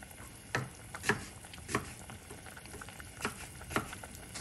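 Broccoli and cauliflower boiling in a squid and chicken sotanghon soup, a quiet simmer with soft bubbling and scattered small pops and ticks recurring irregularly.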